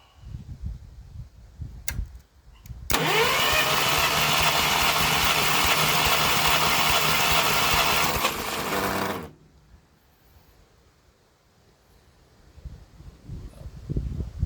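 An old tractor engine cranking over on the starter for a cylinder compression test, giving a steady, loud mechanical whir for about six seconds before it stops, with quieter handling noise before and after.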